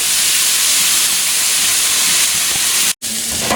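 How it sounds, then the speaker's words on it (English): Onions browning with salt in a hot pan give off a loud, steady, close hiss of sizzling and steam that runs without a break and cuts out for a moment near the end. "just brown these onions off nice and golden brown until they're translucent, just with the salt"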